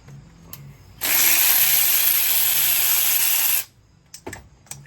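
A ratchet wrench loosens the 13 mm idler pulley bolt on a 3.6-litre Jeep Grand Cherokee engine: one steady, loud burst of rapid pawl clicking lasts about two and a half seconds, with a few faint clinks before and after.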